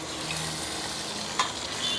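Meat frying in quickly heated oil, a brief bright sizzle with a couple of sharp stirring clinks, moderately quiet and close.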